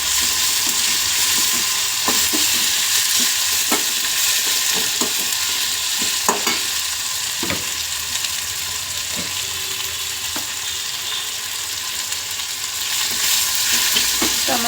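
Curry leaves and coriander leaves frying in hot oil for upma, a loud, steady sizzle with scattered scrapes and clicks from stirring throughout.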